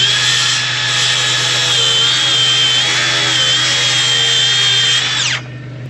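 A power tool, likely a saw, cuts a fascia board with a loud, close, steady high whine for about five seconds before spinning down abruptly, with no talking.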